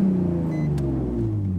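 Car engine revved to about 5,000 RPM to make the exhaust shoot flames, a loud steady low rumble held close by.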